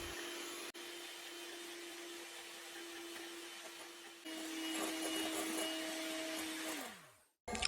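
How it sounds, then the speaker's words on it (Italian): A kitchen blender whips Marseille soap flakes with about 100 ml of water, giving a steady motor whine that rises in pitch partway through, then winds down and cuts off near the end. "e frulla per circa un minuto"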